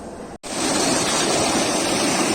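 Water pumped by a motor pump pours into a wheat field beside a citrus orchard, a loud, dense, continuous rushing gush after a brief dropout at the start.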